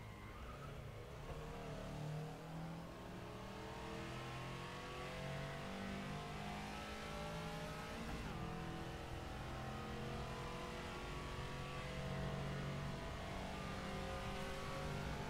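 Caterham race car in rFactor 2, its engine revving steadily with rising and falling pitch through gear changes, a continuous close, strained mid-range drone with no talk.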